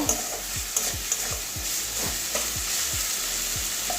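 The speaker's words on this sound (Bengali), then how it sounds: "এবারে ভালো করে মিশিয়ে নেব।" Pasta with boiled carrots is stirred in a frying pan, with a steady sizzle under it and a regular series of scraping spoon strokes, close and clear, with no voices.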